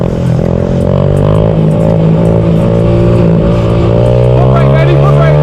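A Honda Grom gas motorcycle being ridden, its small engine droning loud and close with a steady buzzing tone that rises slightly, with someone talking over it.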